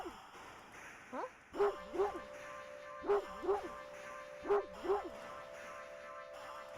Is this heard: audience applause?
no